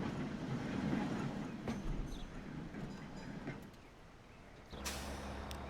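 A train passes in the Transport Fever 2 game, a steady rumbling roll with faint clickety-clack that eases off midway, then a louder low mechanical hum picks up near the end.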